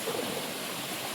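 Monsoon flood water swirls in a whirlpool near a bridge, a dense continuous rushing roar with no pauses.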